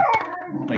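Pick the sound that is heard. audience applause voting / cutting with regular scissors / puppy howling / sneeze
puppy howling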